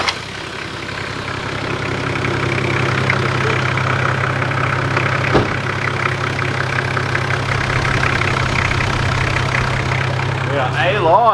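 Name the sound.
turbocharged Toyota Landcruiser 80 Series 1HZ diesel engine idling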